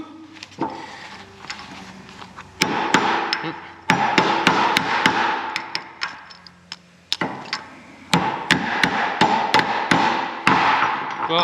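Sharp metallic hammer blows on a bolt ring out in irregular bursts, some rapid strings of strikes, others spaced apart, close and loud.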